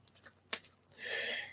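A quick riffle of old, stiff, worn tarot cards snaps sharply, then a soft, sustained papery shuffle follows, close and alone with no talking.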